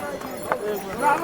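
Horses and mules plod along the crowded Kedarnath trek path from Gaurikund, their hooves clopping unevenly under a busy wash of voices nearby.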